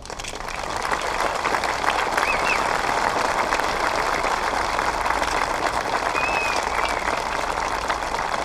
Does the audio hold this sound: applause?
yes